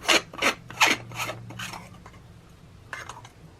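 Battery compartment cover on the back of a NASUM wireless karaoke microphone being unscrewed, producing a few close, loud scraping plastic twists in quick succession that fade into quieter rubbing, with no voices.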